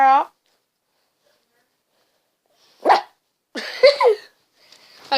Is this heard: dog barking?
yes